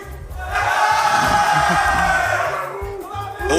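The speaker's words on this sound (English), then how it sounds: "All sides of the crowd cheering for their respective players." A crowd at a Smash Ultimate tournament swells into loud cheering and yelling for the competing players, rising after a quiet moment, holding, then dropping away as background music returns.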